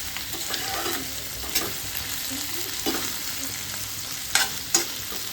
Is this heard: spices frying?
yes